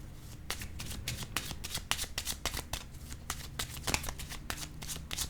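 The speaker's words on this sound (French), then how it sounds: "Attendez, je vais piger une autre carte." A card deck is handled steadily for several seconds, a continuous run of quick papery flicks and riffling snaps at close range, with no one speaking.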